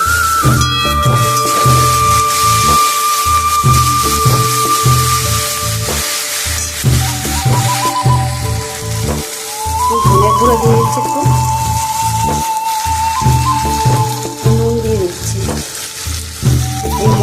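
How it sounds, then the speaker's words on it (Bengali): Chili powder, spices and garlic-ginger paste fry in a pan for a saiting fish curry, giving a loud, steady sizzle with clattering stirring throughout. "মশলাটা ভালো করে কষিয়ে দেবো"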